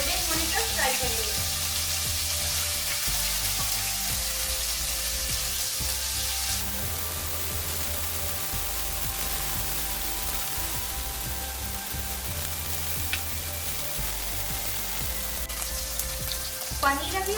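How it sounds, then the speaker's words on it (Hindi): Paneer frying in hot oil makes a steady, close sizzle that runs unbroken throughout, with faint stirring and clinks of a utensil, no talk. "ऑयल अच्छे से गरम होने के बाद उसमें हम पनीर को डालेंगे और इसको हल्का सा गोल्डन होने तक फ्राई करेंगे"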